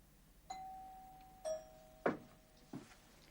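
A doorbell rings in a quiet room, a short series of clear electronic chimes sounding about four times within a few seconds, with no talking over it.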